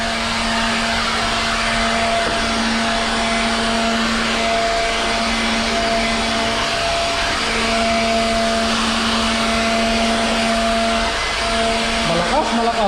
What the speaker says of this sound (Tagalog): Dating walis ang ginagamit ko, ngayon blower na.